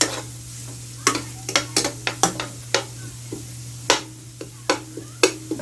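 A spoon scrapes and stirs quesadilla casserole ingredients in a cooking pot on a stovetop: a dozen or so crisp, close scraping strokes in an uneven rhythm over a soft sizzle and a steady low hum, with no talking.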